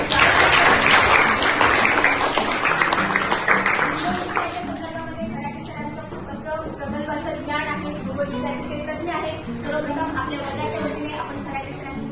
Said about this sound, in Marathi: आपण जोरदार टाळ्या